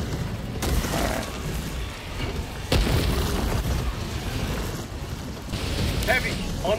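A grenade detonates in the video game Helldivers 2 as a sharp, moderately loud boom, part of a dense wash of battle noise with a few other thuds around it.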